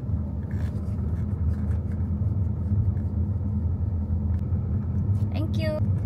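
Busy road traffic near a gas station: a constant low rumble of passing vehicles and engines, with a brief higher squeal or horn near the end, under nearby talking.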